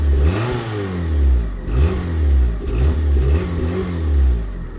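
Project car engine revving repeatedly in close, loud surging bursts, each rise and fall of the motor clearly audible with a rough mid-range growl between pulls.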